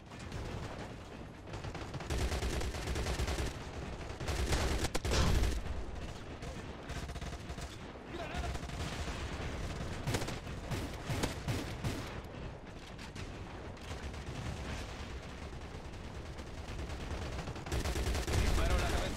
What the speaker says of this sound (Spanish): Disparo la cabeza.